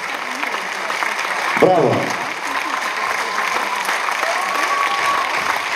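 Applause and cheering for the Ion Cirimpei folk dance ensemble at a Mărțișor concert, a steady crowd wash with a shouted bravo partway through, heard throughout at moderate level.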